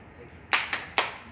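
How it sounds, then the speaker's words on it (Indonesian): Three sharp, rhythmic hand claps from a group of school supervisors doing a spirit-clapping chant at a training session, evenly spaced and close, with no one speaking over them. "Kita tepuk semangat dulu."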